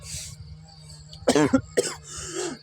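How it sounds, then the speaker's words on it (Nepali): A person in a rural village setting coughs twice in quick succession, close and loud, after a brief quiet pause. "खोकी आयो"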